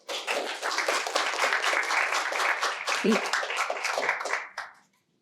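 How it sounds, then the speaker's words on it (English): An audience at a presentation at the U.S. Capitol gives a sustained round of applause lasting about four seconds, then tapers off as the clapping dies away. "Let's give him a big round of applause."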